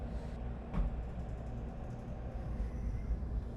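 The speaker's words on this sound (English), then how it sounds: "Our train starts rolling out of Hiroshima right on time." A steady low rumble of a Japanese high-speed train departing Hiroshima station, rolling and gathering speed, with a continuous mechanical drone and faint rail noise throughout.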